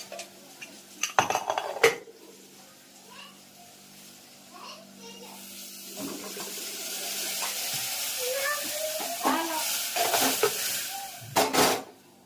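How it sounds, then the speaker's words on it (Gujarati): A metal pressure cooker holding boiling dal gets its lid shut, with sharp metallic clanks early and again near the end over a steady kitchen hiss, while children and adults talk throughout. "પાણી એ કરી કુકર બંધ કરશું"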